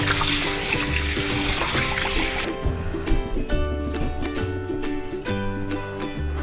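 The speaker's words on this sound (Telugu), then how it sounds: "మీట్ మంచిగా కడిగేసుకోవాలి." Raw meat is washed under a running kitchen tap, with a steady rush of water into the sink and squelchy handling noises, close and continuous throughout.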